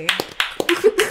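A few sharp hand claps mixed with excited voices during a lighthearted party game, close and loud, the claps landing between bits of talk.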